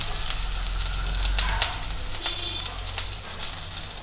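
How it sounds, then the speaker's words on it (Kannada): Onions frying in hot oil for veg hakka noodles, a loud continuous sizzle and crackle close by, with occasional stirring scrapes. "ಆಯಿಲು ಬಿಸಿ ಆದ ನಂತರ ಈರುಳ್ಳಿ ಹಾಕೋತೀನಿ"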